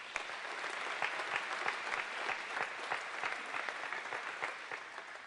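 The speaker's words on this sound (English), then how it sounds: "So let's give them all a round of applause" A sustained round of applause from a large audience at a United Way of Lincoln and Lancaster County kick-off rally, steady dense clapping throughout without speech.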